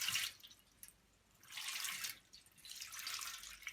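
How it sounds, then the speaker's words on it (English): Water from the filter of a Servis M6011S washing machine trickles and splashes into a baking tray in short bursts, faint and close by, with quiet pauses between the flows. "Expect for a bit of water to come out."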